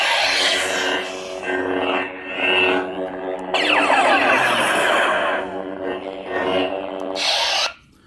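Lightsaber hum and swing effects from a Lux Sabers Ventress hilt, played at maximum volume through a small 22 mm speaker: a steady buzzing drone with sweeping whooshes and crackling clashes, loud and continuous for about eight seconds before cutting off.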